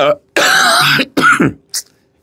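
A man with a lingering cough that tablets have not eased clears his throat and coughs hard several times in short bursts, loud and close to the microphone, with no other sounds around it.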